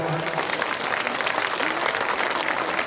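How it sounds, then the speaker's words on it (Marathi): Applause from an audience at a Buddhist Dhamma conference after a chanted verse, dense continuous clapping lasting nearly three seconds at an even, lively level. "त्याच्यासाठी जोरदार टाळ्या तुम्ही करा"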